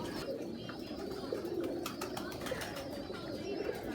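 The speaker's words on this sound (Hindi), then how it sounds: "आज आपको शौक करवाया उस्ताद सरफराज साहब की छत पे मिस्से कबूतरों का" Missay breed pigeons coo softly and continuously on a rooftop, with a steady low background hum and faint scattered clicks.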